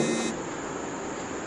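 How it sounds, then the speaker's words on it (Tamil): A phone rings with a short electronic buzzing tone that cuts off after a moment, leaving a faint steady hum. Close and alone, with no voices. "ஃபோன் வருது."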